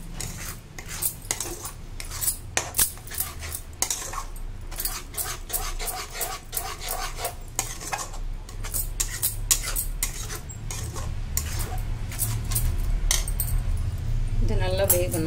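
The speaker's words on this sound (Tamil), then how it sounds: "இந்த சுகர் நல்லா கரையிற வரைக்கும் நல்லா இப்படி கிண்டி விட்டுக்கலாம்." Beetroot halwa with sugar being stirred in a pan, a spoon scraping and clinking against the metal in steady, repeated strokes, close and fairly loud throughout with no talking.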